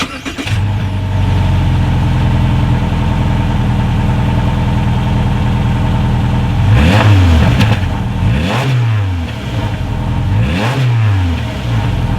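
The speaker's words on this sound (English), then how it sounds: "here is that exhaust clip" A 2017 Subaru Impreza sedan with a single exhaust idles steadily, then three sharp revs rise and fall in quick succession, close and loud with no talking.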